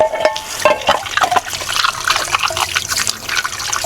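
Sink tap water running over fish being washed at a beach campsite: a steady splashing trickle with irregular drips and pours, close and fairly loud, no talking.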